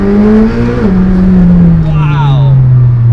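A McLaren Senna with full carbon bodywork gives a loud, steady engine drone close by, its pitch sliding slowly lower over a few seconds, with a voice talking over it.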